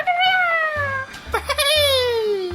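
A voice doing a drawn-out, wavering Chewbacca imitation from Star Wars that comes out like a cat's meow, two long rising-and-falling yowls, loud and close, with no other talk.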